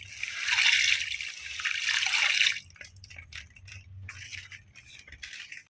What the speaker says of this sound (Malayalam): അത് ഈ വെള്ളത്തിലോട്ട് മുഴുവൻ നമുക്ക് ചേർത്ത് കൊടുക്കാം.